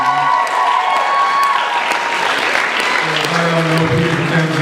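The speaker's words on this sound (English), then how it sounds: "Can we give a round of applause?" Loud applause at a student awards ceremony for a Member of the Year recipient, dense clapping with some cheering while a voice and a brief tonal sound ring out over it.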